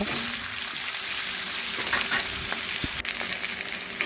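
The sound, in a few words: rohu fish heads frying in pan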